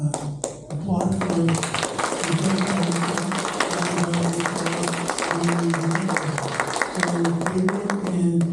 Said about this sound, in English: So I'd like everybody to applaud for